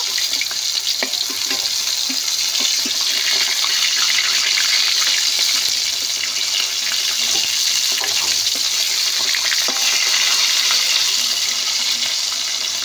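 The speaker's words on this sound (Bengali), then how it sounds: "উল্টে পেল্টে 2 পিঠ ভালো করে ভেজে নেব।" Silver carp pieces frying in hot oil and turned to cook both sides, giving a steady, loud broadband sizzle that runs unbroken throughout with faint scattered crackles and no talking.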